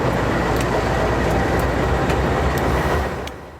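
Freight train working the Vine Hill interchange in Nashville on a cold gray January morning, a steady rumbling roll with faint periodic clanks that fades slightly at the end.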